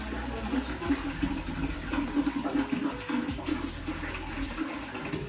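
Water is poured by hand from a 5-litre bottle into a toilet cistern in a village house under construction, a steady close gurgling stream with sloshing running through the whole stretch.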